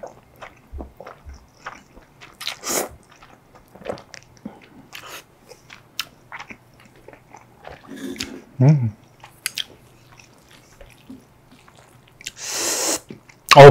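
Spicy, chewy jjolmyeon noodles with mini eggs and cabbage are eaten close to the mic: scattered bites, wet chewing and short slurps, with quiet gaps between them.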